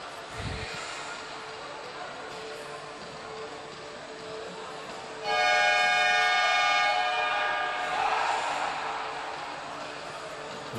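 At a basketball game, the secretariat's buzzer sounds a loud, steady electronic horn blast of about two seconds to end a timeout, over continuous crowd noise in the hall.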